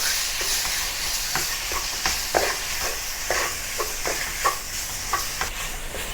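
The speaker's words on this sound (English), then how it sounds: "Stir fry the marinated pork." Marinated pork stir-fried in oil in a wok, a steady close sizzle broken by repeated scraping and tossing strokes of a spatula against the metal.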